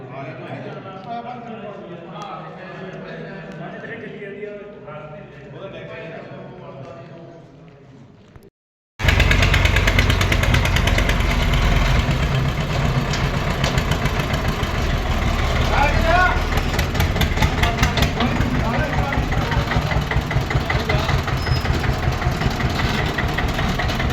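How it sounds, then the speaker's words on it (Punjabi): Loud, steady engine rumble of four tractors running continuously at a gurdwara volunteer work site, starting abruptly after a quieter stretch of talking and carrying on under occasional voices. "ਤੇ ਹੁਣ ਚਾਰ ਟਰੈਕਟਰ ਬੁਲਾਏ ਸੀ"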